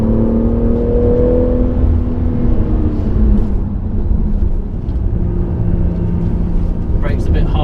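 Car engine pulling hard on throttle around the Goodwood circuit, a steady loud droning rumble that rises and shifts as the car accelerates, heard from inside the cabin.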